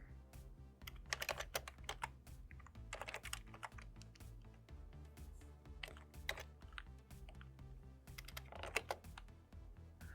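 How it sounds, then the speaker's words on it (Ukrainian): Typing on a computer keyboard while entering input in the IDLE environment: scattered clusters of quiet key clicks over a steady low hum, with a few firmer presses standing out. "Введення завершується натисненням клавіші Enter."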